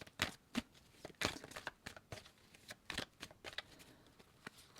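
Angel oracle cards being shuffled by hand, a run of crisp riffling bursts and soft slaps in an irregular rhythm, close and alone.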